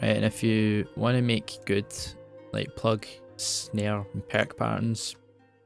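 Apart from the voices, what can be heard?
No everyday noises stand out.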